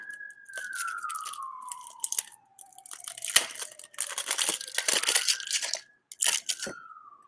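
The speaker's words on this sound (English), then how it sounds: "if we take this deck of cards right here, and we pull on the tab here to unwrap the plastic" The plastic wrapper on a deck of cards crinkles and tears in irregular bursts as the pull tab is drawn and the wrap is peeled away, close and fairly loud, with a faint descending whistle in the background.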